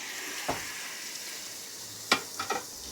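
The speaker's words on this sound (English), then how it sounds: "Sizzle, sizzle." Steak sizzles quietly in a hot pan, with a soft steady hiss broken by a few sharp pops and crackles.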